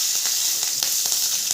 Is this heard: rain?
no